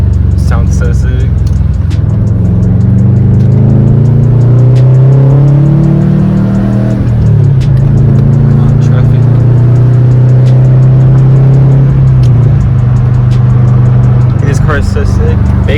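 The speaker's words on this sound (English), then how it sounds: "Hear the turbo? Sounds so sick." Turbocharged car engine, tuned, runs loud and close with sustained revving that rises and falls, while people talk throughout over the engine noise.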